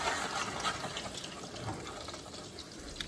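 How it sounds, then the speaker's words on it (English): Fettuccine pasta is dropped into a pot of water at a rolling boil, giving a steady, soft bubbling and sloshing hiss throughout, fairly quiet and close, with no speech. "the water has now reached a rolling boil, and we're gonna add the fettuccine pasta."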